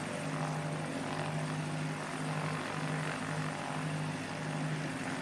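A Diamond 42 Twin Star light twin-engine aircraft runs at a foggy airport, a faint, steady propeller and engine drone with a low hum, heard at a distance and unbroken.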